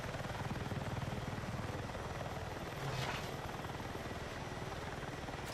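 A military helicopter armed with TOW missiles thrums steadily in a video game, its rotor chop a loud, continuous drone throughout with no pause.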